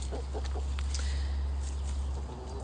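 Backyard free-range chickens clucking close by, a few short soft clucks over a steady low background hum.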